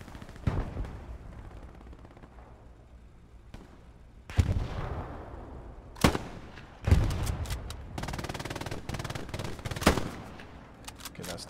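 Sniper rifle in a shooter video game firing several loud, sharp single shots with ringing tails, spaced irregularly, some nearer and some farther, amid sparse background gunfire.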